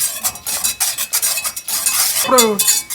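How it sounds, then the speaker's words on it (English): A spoon scrapes and clinks steadily against a pot while chocolate marshmallow fudge mixture boils, with close, loud stirring strokes and no talk. "Just remember to keep stirring constantly."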